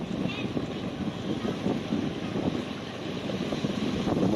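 A boat motor runs steadily at the Market 3 Navotas fishport, a continuous low rumble mixed with wind buffeting the microphone, while people talk nearby.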